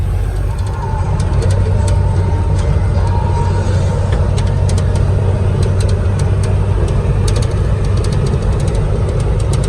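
Steady engine hum and road rumble from a Suzuki Jimny Katana driving along a toll road in fourth gear, close and continuous with small clicks and knocks from the cabin.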